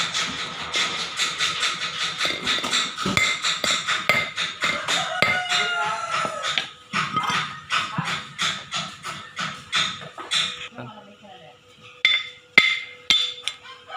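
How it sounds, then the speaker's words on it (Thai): A round-head hammer knocks a bearing out of a car gearbox during a clutch plate replacement: sharp metallic blows in a fast, steady run that thins to a few scattered strikes near the end. "เราจะมาทำการตีลูกปืนออกนะครับ โดยใช้ค้อน ตีออกนะครับ"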